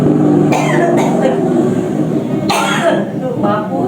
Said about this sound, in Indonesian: saya agak batuk dikit kayaknya tadi bekas naik motor